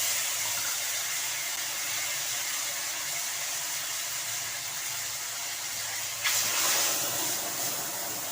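Spice paste hits hot oil in a pan, giving a steady broadband hiss with a sudden louder burst of sizzle near the end before it settles again; no one talks.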